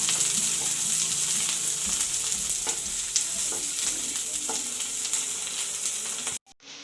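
Onion pieces and capsicum sizzle and crackle in a hot pan, a close, steady frying hiss with occasional stirring clatter that cuts off abruptly near the end.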